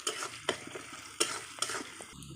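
Onions with salt and turmeric frying in hot oil for a mushroom dish, with a steady sizzle broken by several sharp stirring scrapes close by, and no talking.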